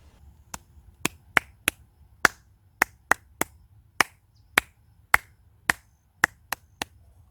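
Sharp, isolated hand claps beat out a beginner's sight-reading rhythm exercise, about fifteen crisp strikes spaced irregularly in a quiet room, with no voices.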